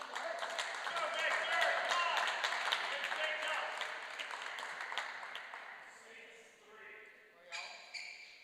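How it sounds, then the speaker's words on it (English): A crowd at a squash semi-final applauds in a dense, fairly close burst of clapping that gradually thins and fades, with a few sharp ball or shoe impacts near the end. "you can really hear the crowd getting behind Victor Crouin"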